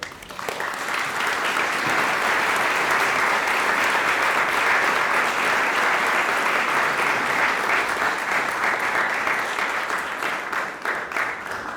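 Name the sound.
audience applause after a poem reading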